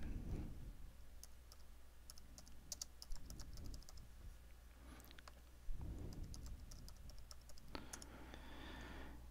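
Someone types on a computer keyboard while logging in to a management console. Quick, crisp key clicks come in irregular clusters, close but fairly quiet, over a low room hum.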